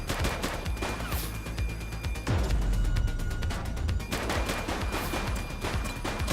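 Rapid gunfire rattles through a video game police shootout, bursts of automatic shots and sharp single cracks stacking into a loud, continuous fusillade with mechanical clatter.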